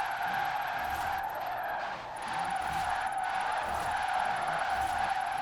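A fully electric drift car in Forza Horizon 4 hums with a steady, smooth motor drone and faint tire hiss, with no pauses and no voices.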